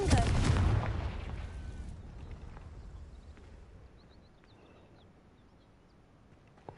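A Confringo fire spell bursting in Hogwarts Legacy, a loud booming blast at the start that rolls off into a long, fading rumble with faint ambient chirps afterward.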